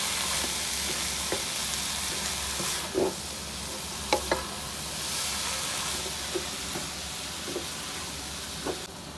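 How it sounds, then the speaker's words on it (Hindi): Chicken and vegetable samosa filling stir-frying in a pan, a steady close sizzle and hiss with a few soft spoon scrapes and clicks throughout, no talking. "देखिए हमने 1 से 2 मिनट इसको अच्छी तरह भून लिया है।"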